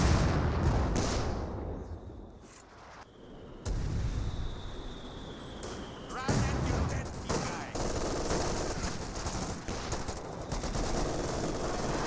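MG42 machine gun fire in the Company of Heroes 2 real-time strategy game: repeated loud bursts amid explosions and battle clatter, with a brief lull before the firing resumes and continues under commentary.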